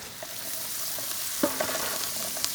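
Lobster with ginger and onions sizzles steadily in a pan, a loud bright hiss with a few soft pops and clicks, no talking.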